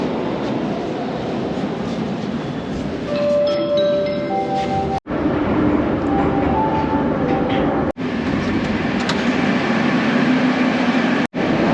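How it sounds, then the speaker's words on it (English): Yekaterinburg metro train running through a tunnel, a loud, steady rumble with brief whining tones and a few sharp drops where the roar cuts out momentarily, heard close from inside the car. "apparently this is the fastest metro in the entire world because it only has 9 stations"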